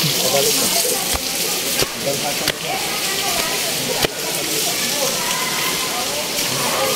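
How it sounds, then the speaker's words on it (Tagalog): Steady, loud broadband rush of water pouring at Antong Falls waterfall in Pangasinan, a continuous roar filling the whole clip with a few brief knocks, voices faintly mixed in. "Tuloy-tuloy yung tubig."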